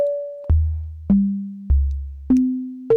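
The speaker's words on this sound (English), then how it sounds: "Now the oscillator is a sine wave" Pure electronic sine tones step between low and mid pitches, each note starting sharply and fading, five notes in a simple sequence.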